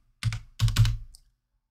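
A short burst of a few close, crisp computer keyboard keystrokes as an account number is typed into accounting software, with quiet around them.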